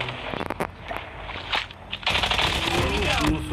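Call of Duty gunfire in a match, bursts of rapid machine-gun shots and single cracks, then a sustained dense volley near and loud, with a little talk mixed in.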